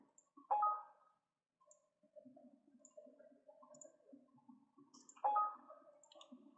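Mouse clicks while saving files in CATIA part design software, two sharp distinct clicks a few seconds apart over faint low background hum.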